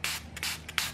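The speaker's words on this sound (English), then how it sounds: "I'm gonna spray some of my all-purpose cleaner onto the" Homemade all-purpose cleaner is sprayed from a trigger bottle onto toothbrush bristles, with three quick, close hissing bursts in a row.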